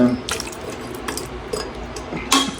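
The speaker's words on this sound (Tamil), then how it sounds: "இன்னும் கொஞ்சம் தண்ணி கொஞ்சம் ஊற்றிக்கலாம்" Water is poured into a curry gravy while cooking, a soft splashing trickle with a few louder splashes over steady kitchen background noise.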